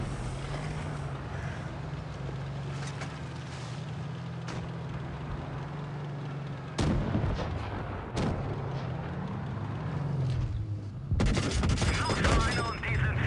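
Tank cannon fire in the World of Tanks Blitz video game, with several sharp, loud blasts at intervals over a steady engine drone and a busy battle mix.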